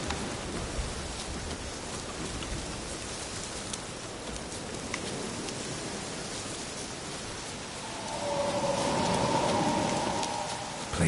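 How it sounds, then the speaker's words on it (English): Steady rain falls in The Witcher 3, a broad, even hiss of drops on surfaces, with a swelling tonal hum rising near the end as the rain keeps going, and no voices. "Looks like rain."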